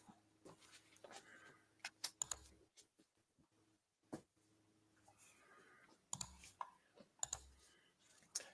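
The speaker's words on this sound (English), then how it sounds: "I hear clicking" Faint, sparse clicks come in small irregular clusters against near silence, with a few sharper snaps standing out.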